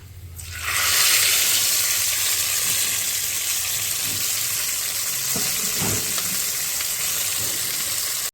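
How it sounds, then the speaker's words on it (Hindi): Hot garlic tadka is poured onto dal, setting off a sudden loud sizzle that swells and then holds as a steady bright hiss, with faint bubbling and clinks underneath and no talking. "बघार हो गया रेडी। अब इसको डालते हैं दाल पर।"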